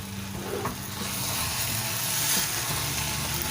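Khoya and nuts stirred together in ghee in a pan for gajar ka halwa, a steady close sizzle and fry with soft scraping of the spoon throughout.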